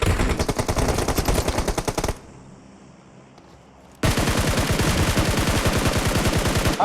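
A SCAR-L assault rifle fires in PUBG Mobile with rapid, loud full-auto bursts, a two-second burst, a quiet pause, then another sustained burst.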